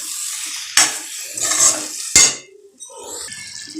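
Paneer sautéed with spices in a pan for palak paneer, with a loud close spoon scraping and clinking against the pan in bursts, sharp knocks between them, and a sizzling hiss beneath.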